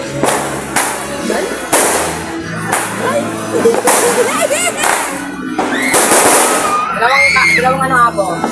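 New Year fireworks pop and boom repeatedly, sharp bursts every second or so with crackling trails, while people talk and call out nearby and a crowd murmurs beneath.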